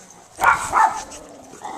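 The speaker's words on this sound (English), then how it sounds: "Don't bark at him." A dog barks twice in quick succession, a short close pair of sharp woofs followed by quiet room noise.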